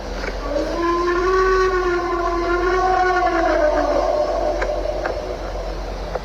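A loud, wailing siren rises and slowly falls in pitch, sustained for several seconds over a steady low rumble.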